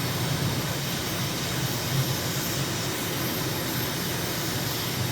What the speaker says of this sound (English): We have lift off, gear up, and at 150 knots, climbing and flaps up.